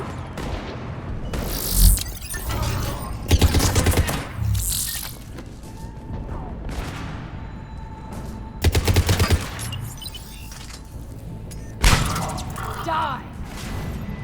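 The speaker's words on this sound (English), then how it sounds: "Under heavy fire." Heavy gunfire in the video game Mass Effect 3: repeated loud bursts of automatic weapon fire and booming impacts, with combat chatter and voices talking between the volleys.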